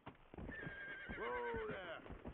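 A horse in the Red Dead Redemption video game gives a single clear, close whinny with rising and falling pitch, over a few hoof clip-clops, with no talking.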